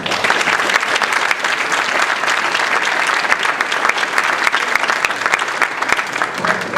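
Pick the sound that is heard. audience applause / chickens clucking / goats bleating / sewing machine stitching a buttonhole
audience applause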